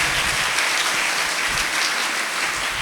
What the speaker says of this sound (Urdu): آپ اپنے لیے زوردار تالیوں میں خدا کا شکر ادا کریں